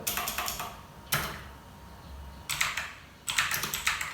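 Fingers typing on a computer keyboard in quick bursts of clacking keystrokes, broken by a single sharp key press and a short pause before more rapid typing resumes, close and fairly loud with no talking.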